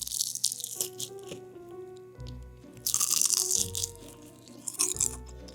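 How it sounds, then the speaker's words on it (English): Loud crisp crunching bites into a fried snack, in a few bursts close to the ear, with quieter chewing between. "I think y'all was able to hear that crunch."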